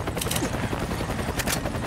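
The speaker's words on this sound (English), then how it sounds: "I can hear gunfire." Sustained gunfire in Resident Evil 5 on a ship deck, dense continuous shots and mechanical clatter filling the scene at steady loudness, no clear speech.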